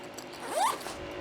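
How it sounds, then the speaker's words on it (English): One quick zipper pull on an awning bag, a short, close, quiet rasp lasting under a second. "the zippers seem pretty nice"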